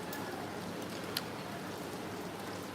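Steady rain during a rainy day, a faint, even hiss of falling water with no voices over it and one brief tick partway through.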